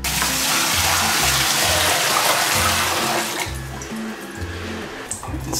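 Treated water sprays forcefully into an aquarium, a loud steady rushing hiss that cuts off partway, followed by quieter splashing and dripping with low bubbling underneath.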